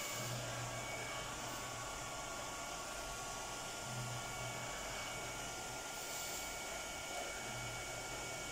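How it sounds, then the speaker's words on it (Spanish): A hair dryer blows on a watercolor seascape painting to speed its drying, a steady close whooshing hum that holds an even level throughout with no speech. "Aplicamos lo aceleramos con el secador."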